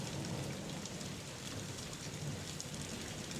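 Steady rainfall pours down as a dense, even hiss of drops on surfaces, holding at a constant moderate level throughout with no voices over it.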